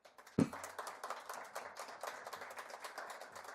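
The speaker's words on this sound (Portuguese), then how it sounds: "Uma salva de palmas para eles, que eles merecem." Staff being applauded at the close of a candidates' debate: one sharp knock, then scattered, faint hand claps, thin and distant.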